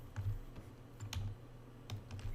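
Clicks of a computer keyboard and mouse while working in ZBrushCore: a few soft, scattered taps over a low background hum, quiet and close, with no one speaking.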